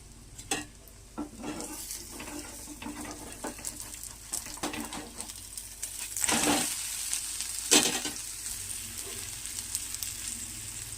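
A bread omelette fries in a pan with a continuous sizzle, punctuated by several sharp clinks and scrapes of a utensil against the pan. There is no talking.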